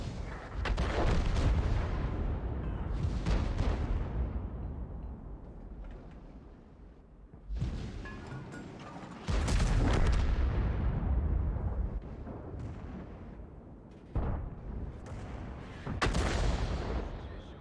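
Several heavy artillery blasts from the Object 261 self-propelled gun in a tank video game boom one after another, each a loud deep thud that decays into rumbling echoes before the next shot.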